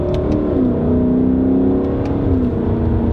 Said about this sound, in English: 5-liter V8, 471 horsepower.